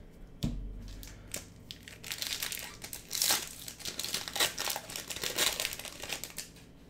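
Magic: The Gathering set booster packs from March of the Machine being opened, close foil wrapper crinkling and crushing with a sharp tear at the start, then continuing rustles and handling.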